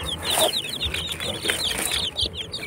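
Eleven three-day-old chicks in a box give rapid, high, thin peeps in overlapping bursts, close and steady throughout, with faint rustling beneath.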